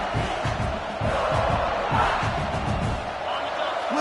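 Stadium crowd roaring in College Football 26 during an LSU game, a dense, sustained wall of cheering and shouting with rhythmic surges, broadcast commentary faintly mixed underneath.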